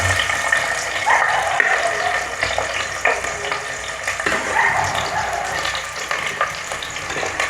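Two chopped medium onions hit hot oil in a pan for a Kerala-style chicken curry, giving a loud, steady sizzle that runs the whole time with brief stirring scrapes and no voices.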